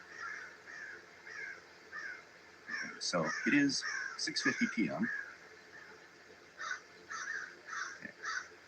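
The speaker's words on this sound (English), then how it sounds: "these crows." Crows caw repeatedly outdoors in short harsh calls, some near and loud, others further off, while a person talks briefly in the middle.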